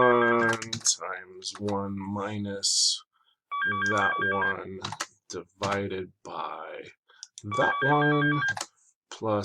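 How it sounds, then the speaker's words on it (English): A telephone ringing in a room with a repeated electronic trill, twice, under a man explaining statistics math aloud. "sorry about the phone, guys,"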